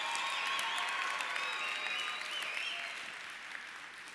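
A convention audience breaks into a full round of applause that is loud at first and then gradually thins and fades toward the end.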